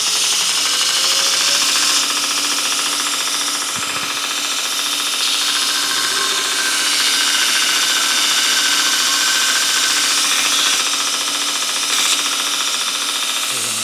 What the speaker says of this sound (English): I'm just going to do this over here on the Marabraid grinder, belt grinder.